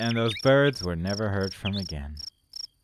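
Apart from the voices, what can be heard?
cricket chirping in video game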